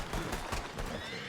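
A horse in the video game RedM gives a short, loud whinny, with clip-clopping hooves and game background sound.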